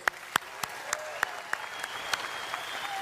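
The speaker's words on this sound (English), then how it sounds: "Please give them a round of applause." Audience applause at a Reform UK party conference, scattered sharp claps standing out over a steady wash of clapping, fairly distant and even throughout.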